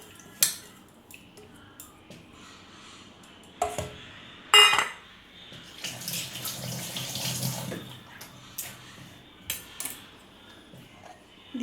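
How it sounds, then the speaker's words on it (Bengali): A small amount of water is splashed and poured into a container to rinse lentils, in short, faint bursts with clinks of the container and handling noises between them, in a quiet kitchen. "খুব সামান্য একটু জল দিয়ে ধুয়ে দিয়ে দেবো, হালকা পরিমাণে।"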